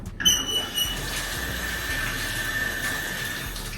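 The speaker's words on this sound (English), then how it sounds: "Wash my hands off" Tap water runs steadily while hands are washed under it, a close broadband rush that starts with a brief clatter and then holds an even level to the end.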